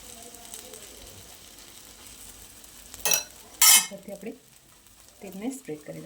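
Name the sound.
oil spread over jowar spinach pudla cooking on pan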